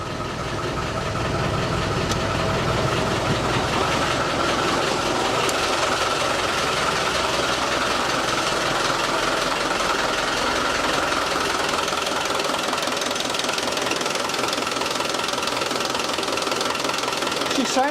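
A Land Rover Defender's newly swapped engine idles slowly, giving a continuous close clattering, knocking rumble that stays loud and even throughout, with a person speaking faintly now and then.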